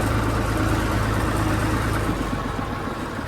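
A tractor engine runs steadily on the way to a rice paddy field, a loud, continuous low diesel chug with a rough, even throb that eases slightly near the end, with no voices.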